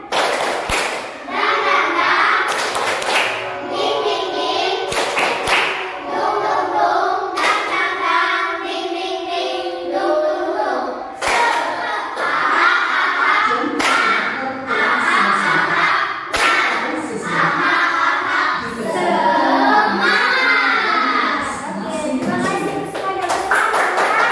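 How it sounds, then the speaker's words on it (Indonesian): A classroom group of children does an Indonesian spirit clap (tepuk semangat), rhythmic patterned hand claps and thumps repeated through the clip, with a teacher and children talking over it. "Tepuk semangat ya. Ayo. 1, 2, 3. Tepuk semangat."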